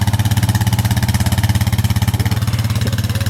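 A four-wheeler engine runs close by with a fast, even, loud thumping pulse, a steady low-pitched chug that never lets up.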